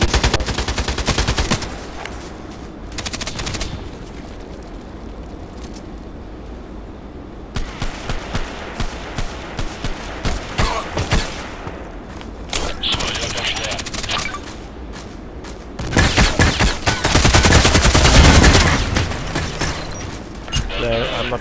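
Bursts of AK-12 assault rifle fire in the Contract Wars shooter game, loud rapid volleys separated by short pauses, with someone talking over parts of the gunfire.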